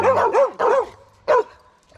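Dogs at a home bark several times close by: three quick barks, a short pause, then one more, loud and alone.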